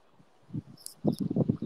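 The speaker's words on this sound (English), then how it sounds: "I hear crickets going" Crickets chirp in short repeated bursts that grow busier in the second half, fairly close and clear, with no voices.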